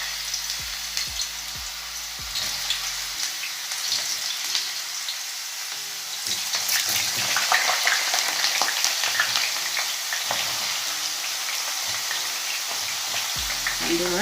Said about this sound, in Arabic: دابا ملي الزيت سخن غنديروا البطاطا ان شاء الله